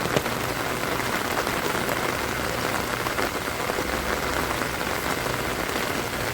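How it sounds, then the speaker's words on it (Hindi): Steady rain pours outdoors, a dense, even hiss of drops striking surfaces, close and continuous throughout, with no voices. "बारिश में शूट करने का मज़ा ही कुछ और है."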